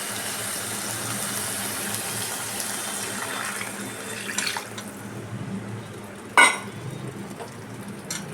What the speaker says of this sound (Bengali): আর একটু জল দিয়ে দিলাম